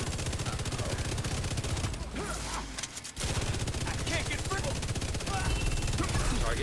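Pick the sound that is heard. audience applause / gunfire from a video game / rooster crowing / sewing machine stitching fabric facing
gunfire from a video game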